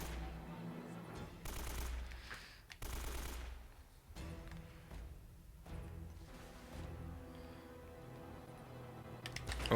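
Rapid bursts of automatic gunfire crackle during a shootout in the video game Uncharted, in repeated volleys over a steady bed of in-game ambience and music.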